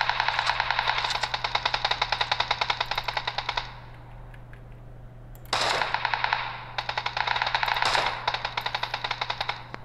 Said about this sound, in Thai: ปืนนี้ยิงยากมากนะครับถีบมาก